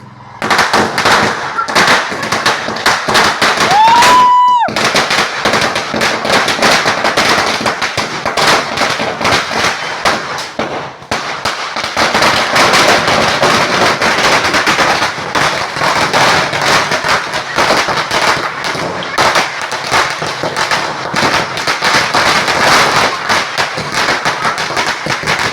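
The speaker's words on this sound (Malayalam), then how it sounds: "അത് കാരണം ചെറിയൊരു പടക്കങ്ങൾ ഞാനും പൊട്ടിച്ചു." Small firecrackers set off by hand burst in a loud, dense stream of crackling pops, with one rising whistle early on and a brief gap around the midpoint before the popping resumes.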